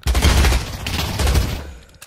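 Loud, rapid bursts of video game gunfire, fired in quick overlapping volleys close by over about two seconds, with no talking.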